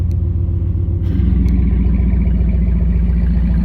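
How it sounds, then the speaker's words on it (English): A RAM 1500 Hemi V8 idles through Borla dual exhaust with the cutout closed, giving a loud, deep, steady rumble that thickens slightly about a second in, close by with no talk. "Close it back, and there it is, out the Borla exhaust, out the back of the truck and the duals."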